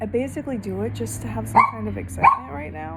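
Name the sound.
dogs barking and whimpering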